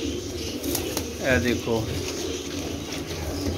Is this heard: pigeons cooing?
yes